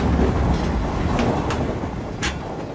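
A train rolls on its tracks as it slows down, a steady loud rumble with a few sharp metallic clicks and squeals over it and no talking.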